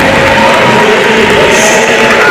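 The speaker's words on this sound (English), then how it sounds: "Cheerleaders are going, student crowd is into it." A student crowd at a home varsity boys basketball game, Farmington Knights versus Festus Tigers, roars in a dense, loud, continuous wash of cheering that fills the gym with no breaks.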